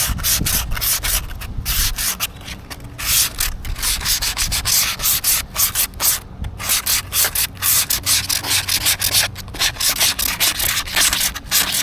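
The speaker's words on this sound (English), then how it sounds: "So when you use the sandpaper, what you're doing is you're creating little ripples in the bottom of the pan" Sandpaper rubbed in circles over the bottom and riffles of a plastic gold pan gives a loud, steady scratchy rasp with quick rhythmic strokes, alone and close up.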